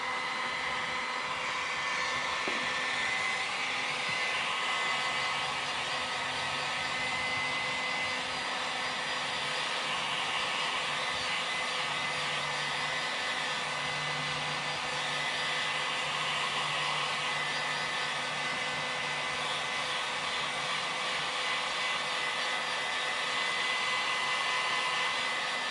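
A hair dryer blowing on a freshly painted RC car body for an Arrma Limitless, a loud steady whooshing roar held close throughout with no talk.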